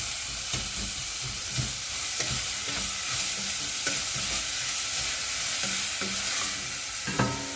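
Vegetables sizzle steadily in a hot pan as they start to cook, with scattered stirring scrapes and clinks throughout a continuous, fairly loud frying hiss and no talking.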